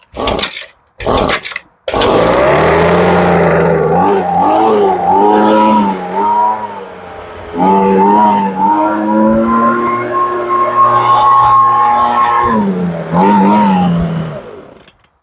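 A small gasoline engine catches after a few short sputtering bursts, then runs loud and close for over ten seconds, its pitch wavering up and down as it revs.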